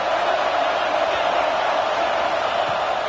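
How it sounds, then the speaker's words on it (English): Simulated stadium crowd noise from an American football video game forms a loud, constant roar with no breaks, and no voices stand out. "This crowd bringing the energy and noise early"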